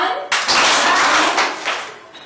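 Classroom students clap their hands in one loud burst of overlapping claps that starts abruptly, holds for about two seconds and then fades out.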